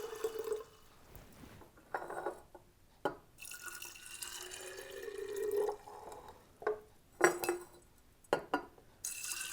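Water is poured over snap pea seeds in a glass container, with intermittent splashes, drips and light glassy clinks in uneven bursts, close and fairly quiet, with no talk.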